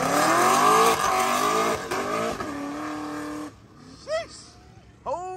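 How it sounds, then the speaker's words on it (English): A performance car at an exotic car event in Volo bounces loudly off its rev limiter, a sustained harsh engine drone with a steady pitch, then cuts off, followed by shorter revving bursts with rising and falling pitch. "On the rev limiter."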